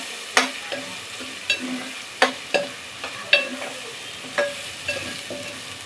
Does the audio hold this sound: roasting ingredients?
yes